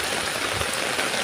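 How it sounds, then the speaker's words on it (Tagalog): Steady, dense hiss of heavy rain pouring down, a continuous wash of falling water with no pauses and no voices. "Sobrang lakas ng ulan."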